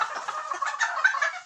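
Ornamental İspenç chickens and a rooster in their coop cluck in a busy, overlapping chatter, close and fairly loud with no talk.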